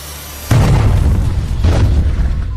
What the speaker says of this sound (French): Tout a explosé